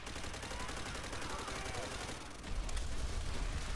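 Gunfire in the video game Call of Duty World at War, continuous rapid automatic shooting blended into a dense, loud wash of shots and battle noise that swells slightly near the end.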